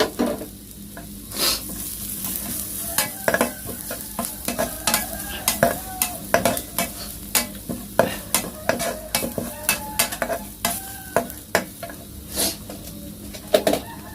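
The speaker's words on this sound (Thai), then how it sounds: "สุดท้ายครับ เราก็ใส่ใบมะกรูดครับ ที่ผมซอยไว้ครับ" Sliced kaffir lime leaves are stirred through salted mackerel frying in a pan. A steady sizzle runs throughout, with repeated scraping and clacking of the utensil against the pan, close and fairly loud.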